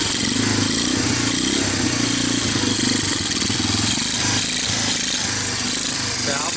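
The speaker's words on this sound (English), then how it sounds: "But the exhaust sounds good." A rusty barn-find Honda TRX250 ATV runs close by, its exhaust giving a loud continuous rattling drone with slight rev changes, while voices talk over it.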